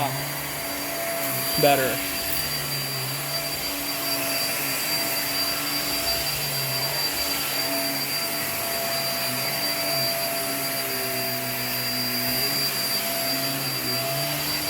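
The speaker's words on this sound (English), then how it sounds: "you can release the suction on the handle and allow the vacuum to lift up" An upright vacuum cleaner runs on thick carpet with a loud, steady roar, and its pitch wavers as the suction is released at the handle. A voice speaks briefly over it.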